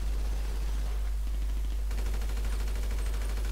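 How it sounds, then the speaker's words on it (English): Machine gun fire in GTA V Online rattles in fast repeated bursts, growing denser and louder in the second half, over a constant low hum. "Oh, a rifle, that's the machine gun."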